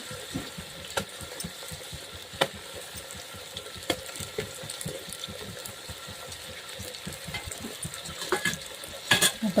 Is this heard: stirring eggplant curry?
yes